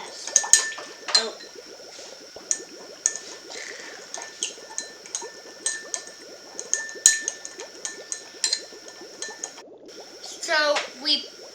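Crystal-growing powder mixtures being stirred in small containers with a utensil, giving repeated light clinks and scraping taps, close and busy, with children talking over it.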